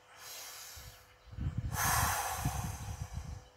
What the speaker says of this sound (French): la maman, elle fait une grande respiration